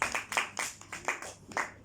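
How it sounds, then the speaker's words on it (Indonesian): Classroom students clapping for the next group in a teaching session, a short burst of about six rhythmic group claps, close and fairly clear with no talk. "berikan tepukan untuk kumpulan next"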